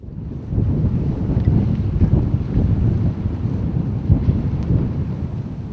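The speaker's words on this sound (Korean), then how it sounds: "낚시자리 옆쪽에서 강한 바람이 불고 있다" Strong wind blowing across a seaside fishing rock, a loud, steady rumbling roar buffeting the microphone with gusty swells, alone without voices.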